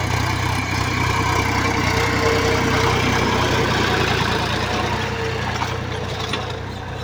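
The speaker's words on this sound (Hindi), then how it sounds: "खेत जुता रहा है इस ट्रैक्टर से" A tractor engine idles and runs in an open field, a steady, loud, close rumble that holds evenly throughout with no talking.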